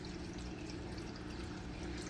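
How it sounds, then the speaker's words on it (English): Steady water trickling and splashing in a Top Fin Infinity Edge waterfall aquarium tank, a continuous close, even flow with a low hum underneath and no voices. "because of the way this tank is and does the waterfall effect"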